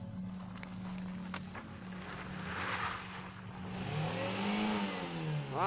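An engine drones steadily and then rises in pitch as a car slides sideways through fresh snow, with the revs climbing toward the end; the car is heard at moderate distance and no one speaks.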